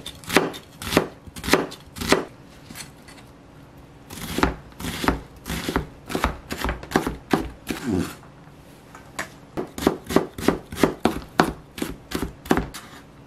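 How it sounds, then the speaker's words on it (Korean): Half an onion being finely chopped with a knife on a board while making cucumber kimchi: rapid, close, crisp knife strikes in dense bursts, with a brief pause around the four-second mark, and no talking. "양파는 반 개만요, 조금 잘게 다져 넣겠습니다."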